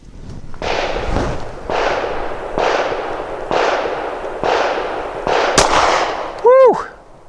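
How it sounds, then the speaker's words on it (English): A Sig P365 XL pistol fires Federal jacketed hollow point rounds outdoors, six sharp, loud shots at roughly one-second intervals with echoing tails, followed by a brief metallic ring at the end. "This is the blue synthetic jacketed hollow point fragmenting crazy round from Federal."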